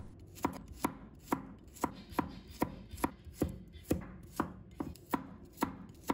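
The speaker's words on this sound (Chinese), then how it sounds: "再准备1把大蒜，先把它切成片" A knife chops garlic into slices on a cutting board with about a dozen crisp, evenly spaced thuds, close and clear with no talking.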